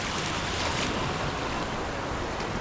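Sea waves roll in at Puerto Azul Beach Resort in Ternate, Cavite, a continuous broad roar of surf and wind close by with no voices.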